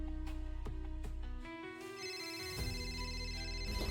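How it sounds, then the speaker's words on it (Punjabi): A phone ringtone plays steadily, a repeating electronic melody with bright tones that shifts pitch partway through, with no talking. "ਫੋਨ ਪਤਾ ਨਹੀਂ ਕਿਹੜਾ ਵੱਜੀ ਜਾਂਦਾ"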